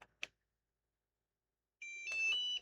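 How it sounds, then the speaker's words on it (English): Two short clicks, then after a pause a bright electronic beep sequence of a few rising tones from a Meteor75 Pro HD drone powering on, close and clear. "And it beeps when it turns on."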